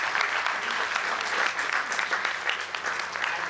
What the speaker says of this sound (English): let's have a big round of applause for all the people who are here